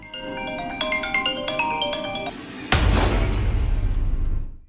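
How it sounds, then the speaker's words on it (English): A basement light bulb in a movie shatters suddenly with a sharp loud crash and a spray of breaking glass. A rapid sequence of chiming electronic tones comes first, and the noisy debris then fades away. "Curtis is then shocked when the basement light suddenly shatters."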